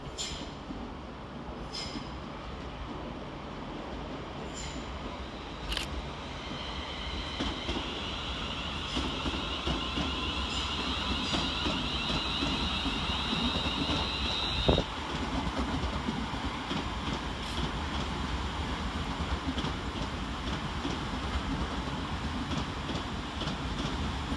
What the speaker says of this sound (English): Arriving to terminate with a London Northwestern Railway service off Crewe is 350 371 and 350 104.